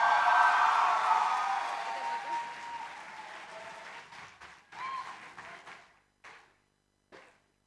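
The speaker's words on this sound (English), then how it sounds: "let us give a round of an applause to our graduates of IBDP class of 2025" Loud applause from a large audience at a school graduation ceremony fills the start, then thins out into scattered claps and fades to a few last taps.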